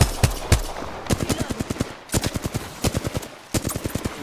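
Rapid machine gun fire in Apex Legends, several quick bursts of close, punchy shots separated by brief pauses, loud and alone.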